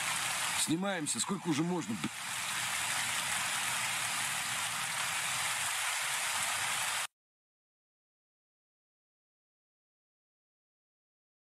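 Rain falls steadily in the video game Escape from Tarkov, a dense, constant hiss heard while someone speaks briefly, before the sound cuts off abruptly after about seven seconds.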